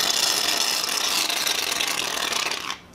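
Shaving foam hisses steadily from an aerosol can onto slime, a continuous close, bright spray lasting nearly three seconds before cutting off abruptly.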